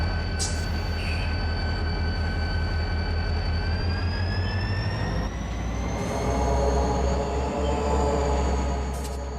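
A simulated SD40 diesel locomotive engine in a train simulator game drones and whines with rising tonal pitch, a heavy low rumble underneath, steady and fairly loud throughout.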